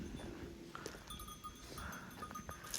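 A goat herd out at pasture in Turkey, quiet and somewhat distant, with faint scattered bell tinkles and light animal sounds over a low outdoor background.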